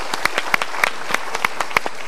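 A handful of sharp, spaced hand claps at a motivational seminar, fairly close and distinct, sounding like a small group clapping in a loose rhythm rather than a full ovation.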